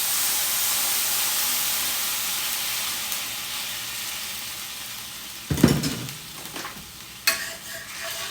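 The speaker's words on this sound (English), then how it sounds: "So I'm going to deglaze this and clean it" Liquid hitting a hot skillet while deglazing sets off a steady, loud hissing sizzle with rising steam, then scraping strokes and a couple of sharp bursts of fresh sizzle near the end.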